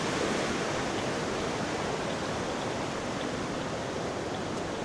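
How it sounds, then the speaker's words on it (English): A dangerous glacial river in Norway rushes beneath a footbridge. The water makes a dense, unbroken hiss and roar at a steady low level, heard alone without any voices. "this river can be very dangerous to cross"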